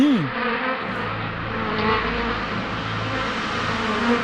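Insects buzz steadily around a character in a 2D animated children's cartoon, a continuous droning hum filling the scene with a brief swooping tone at the start and no talk over it.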